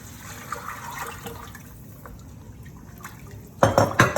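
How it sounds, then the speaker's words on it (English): Water pours into a pot of beans near the end, a short, splashing gush after a quiet stretch of faint kitchen clinks and drips. "And we're gonna add some water"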